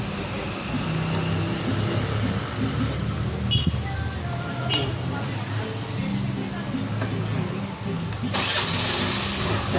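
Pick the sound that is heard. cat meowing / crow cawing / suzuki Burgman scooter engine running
suzuki Burgman scooter engine running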